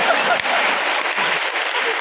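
Audience applause at an awards ceremony in Chennai, a steady broadband patter of many hands clapping continuously in a hall, fairly loud and even throughout with no voices standing out.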